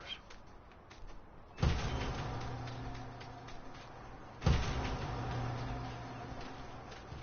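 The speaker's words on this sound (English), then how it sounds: "I'm gonna shut these doors." Doors shut in the Farming Simulator 19 video game on a farm, with two quiet, separate thuds a few seconds apart, each trailing into a low rumble.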